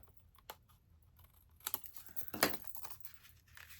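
Paper trimmed for a handmade card, quiet close clicks and crisp cutting and crinkling bursts, the loudest snip near the end, with no voices.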